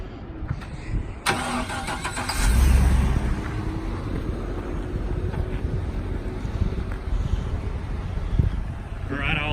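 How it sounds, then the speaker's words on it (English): A GMC 7500 forestry bucket truck's diesel engine cranks and fires, a burst of starter noise giving way to a steady, fairly quiet idle with some wind buffeting on the microphone. "Hear the engine run."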